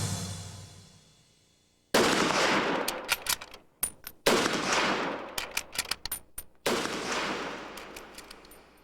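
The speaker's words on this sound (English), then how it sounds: "we can see the difficulty Oswald would have had to make all 3 shots within the 5 seconds" Three rifle shots from a computer timing simulation of the JFK assassination ring out loud and sharp, each a sudden blast followed by a decaying echo, separated by short pauses with brief silent gaps.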